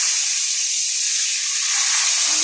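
Food sizzles and hisses in hot oil, a dense, loud, continuous frying sound with no talk over it.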